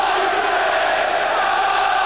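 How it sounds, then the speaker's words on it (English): A noisy Arsenal football crowd roars in a stadium as a corner kick is taken, a dense, sustained wall of voices, loud and steady throughout, with no distinct words. "Good noisy Arsenal crowd as Merson fires in the corner."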